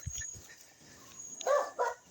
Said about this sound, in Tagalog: Ingay pa ng aso dito.